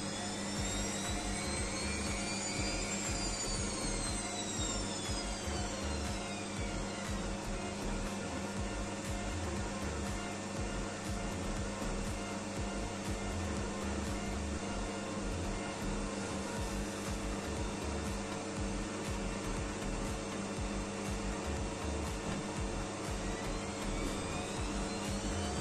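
A Bosch washing machine drum spins in test mode at about 100 rpm, giving a steady, continuous motor whine with rising and falling tonal sweeps and constant hum for the whole stretch, no voices.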